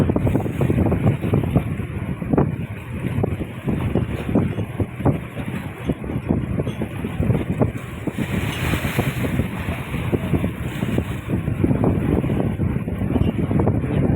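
Strong wind roars and buffets a boat continuously, with water sloshing and splashing against the hull, loud and close throughout.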